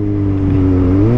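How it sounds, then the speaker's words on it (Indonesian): Kawasaki ZX-25R motorcycle's high-revving engine holds a steady, loud, close whining drone that climbs slightly in pitch near the end, with no talking. "kayaknya susah deh buat ngedapatin suara ngelengking kayak ZX 25R ini."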